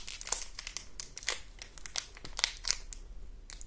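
A Pokémon card booster pack wrapper is pulled open up close, its foil crinkling and tearing in quick, uneven bursts with short pauses between them.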